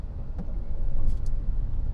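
Jammed road traffic on the Mumbai–Ahmedabad highway, a steady low rumble of idling and creeping vehicles with a couple of brief higher noises, heard close and continuous.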